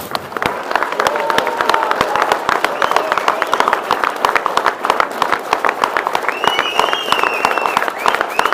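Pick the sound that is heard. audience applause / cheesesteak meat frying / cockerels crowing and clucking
audience applause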